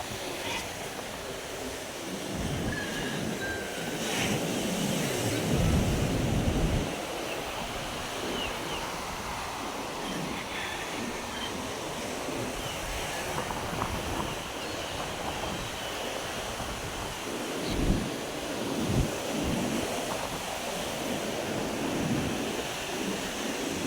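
Sea waves surge and wash steadily along a stormy coast where tall boats sit near collapsed houses, with strong wind buffeting the microphone throughout and no clear talking.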